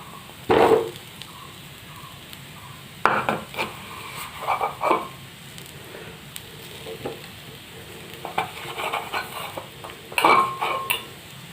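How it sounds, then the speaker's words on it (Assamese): Grated coconut and jaggery fry in a hot pan for xutulee pitha, with several sharp clanks of a spoon scraping the metal between quieter stretches of stirring and soft sizzle, close and fairly loud, with no talking. "গুড়খিনি দি লৈ গুড়খিনি নাৰিকলখিনিৰ লগত মিহলি হৈ যোৱালৈকে ভাজি থাকিম।"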